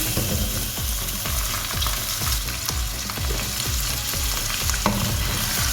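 Chicken for restaurant-style chicken karahi fries in a kadhai over a medium flame, sizzling loudly and steadily up close while a utensil stirs and scrapes it in a regular rhythm.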